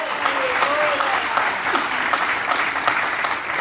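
A church congregation gives steady, full applause during a sermon on prayer, and voices are faintly audible beneath the clapping.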